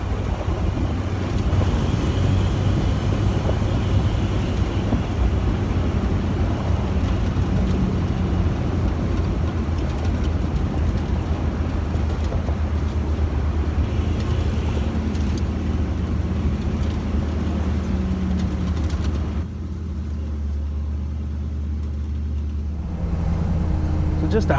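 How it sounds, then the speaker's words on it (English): A 1974 Ford Bronco with a 351 Windsor V8 drives along, its engine a steady low rumble mixed with wind noise throughout, easing off slightly near the end. "Obviously the 351 Ford Windsor engine."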